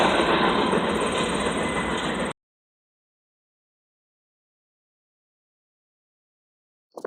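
A loaded freight train rolls through a rail yard, its loud rumble and rattle of wheels and cars filling about two seconds before the sound cuts to silence.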